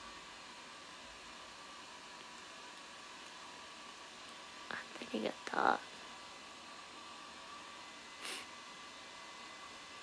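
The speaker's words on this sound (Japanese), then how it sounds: "急ドライヤーの音してる。" A hair dryer running somewhere nearby, a faint, steady whooshing hiss that stays constant throughout while a voice speaks briefly and a few soft rustles come and go.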